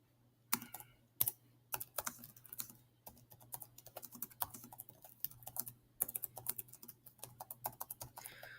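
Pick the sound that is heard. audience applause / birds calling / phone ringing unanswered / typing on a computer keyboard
typing on a computer keyboard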